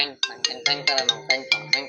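A mobile phone rings with an incoming call, a bright electronic melody of quick repeated notes pulsing about four times a second, loud and near, with no talk over it.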